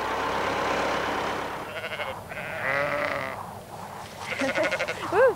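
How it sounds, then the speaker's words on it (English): Sheep bleat in a snowy winter field on a farm reached by four-wheel-drive tractor, several wavering calls rising over a steady background rumble of vehicle noise, moderately close. "Well, the sheep seem pretty happy at the moment"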